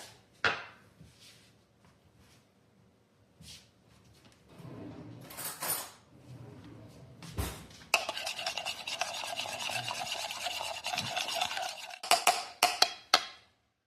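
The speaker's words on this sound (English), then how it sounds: "The vanilla. And that heavy cream. We're going to mix these together." Vanilla and heavy cream stirred together for cranberry orange scones: scattered light clinks and rubbing strokes give way to a sustained, close whisking scrape, ending in a few sharp taps on the bowl.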